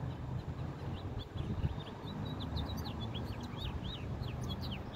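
Faint bird chirps and short tweets repeat over a steady outdoor background rumble, distant and soft, with no voices.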